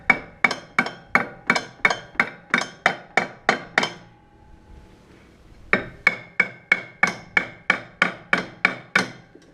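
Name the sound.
hammer hitting metal clutch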